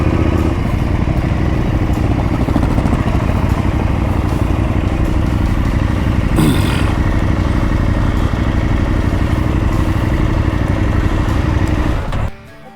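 Motorcycle engine running steadily and loud on a rocky West Texas back road, a continuous close rumble for about twelve seconds that cuts off abruptly near the end.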